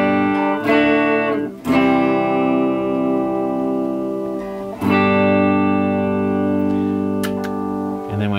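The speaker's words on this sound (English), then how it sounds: "it's got really, really clear rhythm tones." An electric guitar built from a Pango Music Explorer kit plays clear rhythm chords through an effects unit, with a few strummed chords that ring and sustain at full volume between short pauses.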